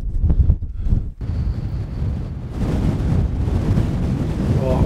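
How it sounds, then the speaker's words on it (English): Outdoors by the water while fishing for roach, gusty wind buffets the microphone in loud, rumbling surges that rise and fall without a break. "I'm gonna have to wait for that wind to drop"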